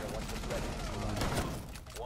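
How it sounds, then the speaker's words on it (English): Rapid gunfire bursts in a Rainbow Six Siege match, dense overlapping shots sounding steadily, with shotgun blasts in the mix, under and around players' voices. "They're using shotguns too!"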